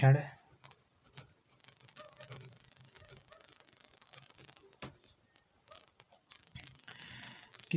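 A pen scratches out physics notes on paper in quick irregular strokes and taps, fairly faint and close, with a man lecturing in Hindi between and over the writing.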